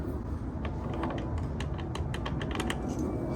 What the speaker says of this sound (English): I'm going to get some wrenches for this.